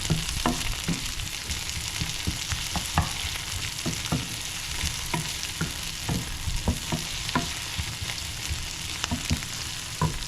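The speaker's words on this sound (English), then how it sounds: "So I'm putting down the onions" Onions sizzle and fry in a pan with a steady crackle, broken by repeated sharp clicks and scrapes of stirring at irregular intervals, close and fairly loud with no voices.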